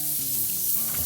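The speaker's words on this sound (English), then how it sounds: "So with our burgers on the grill, I'm gonna close the lid and we're gonna begin cooking this for about 4 minutes on each side." Juicy Lucy burgers sizzling on a grill, a brief continuous close hiss and crackle with no talking.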